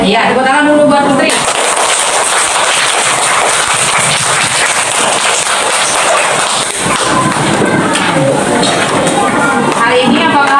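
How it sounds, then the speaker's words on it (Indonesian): Schoolchildren in a classroom break into a dense burst of clapping for a student named Putri, a steady, crackling applause lasting several seconds after a brief spoken word from the teacher. "tepuk tangan dulu buat Putri"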